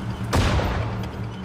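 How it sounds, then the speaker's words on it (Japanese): Gunfire in a Battle of Singapore video game played as the Japanese army: one sharp, loud burst of shots over a low battlefield rumble, trailing off into a rattling decay. "目標に発砲せよ。"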